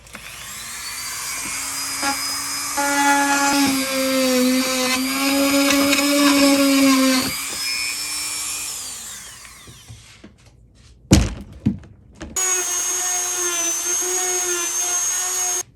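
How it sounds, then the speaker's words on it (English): A Dremel rotary tool cuts into a sled with a high, whining grind that rises and falls for about seven seconds, then winds down. Brief clattering handling knocks follow before the tool whirs up again, close and fairly loud. "We should not be using a Dremel for doing this, but I'm going to do it anyway."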